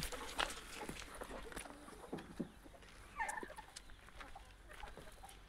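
Free-range country chickens move about a poultry farm, giving scattered clucks and calls among footsteps and rustling, with a faint voice in the background.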